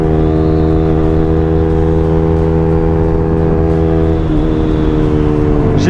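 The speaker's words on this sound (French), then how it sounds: "Alors une accélération d'une 125 quoi." A Honda CBR 125 motorcycle accelerates on the road, its small engine holding a steady buzzing drone that rises slightly in pitch, loud and close with wind rush over it.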